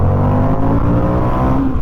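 A 2022 Indian FTR R Carbon motorcycle accelerating on the road, a loud, close, steady engine drone with rich low rumble and rising harmonics, heard alone for a couple of seconds.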